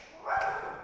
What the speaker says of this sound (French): on a le chien qui nous défend aussi.